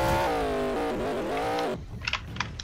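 Engine of the Infinity car from the Roblox game Mad City, a steady droning tone with shifting pitch that cuts off abruptly, followed by a few faint scattered clicks.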